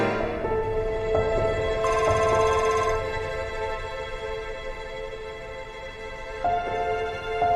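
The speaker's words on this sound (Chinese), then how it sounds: "为什么不接电话？" A telephone rings repeatedly in an indoor home setting, its bell tones loud and close, pausing midway before ringing again, with no talking.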